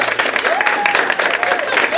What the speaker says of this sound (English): y'all should applaud